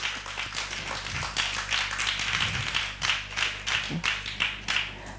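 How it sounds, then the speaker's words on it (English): Audience applause after live poetry performances at an African event, a modest round of claps with sharp individual hits standing out over a steady low hum, continuing evenly to the end. "So one more round of applause,"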